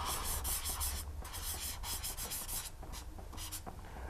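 Writing on a board during a Romanian-language lesson: quick scratchy strokes and taps in close, steady bursts with brief pauses, over a low constant hum, with no talking.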